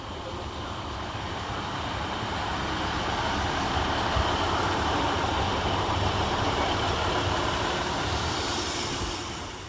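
Transport for Wales train 150282 pulls into Cardiff Queen Street station, a broad steady rumble and engine roar that swells, holds for several seconds and eases slightly at the end.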